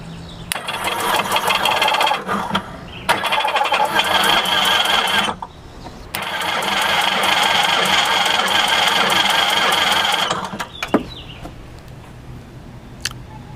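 Supercharged 2011 Sea-Doo RXT-X 260 engine cranks over during a compression test in loud, steady bursts separated by short pauses, followed by quieter clicks and handling noises.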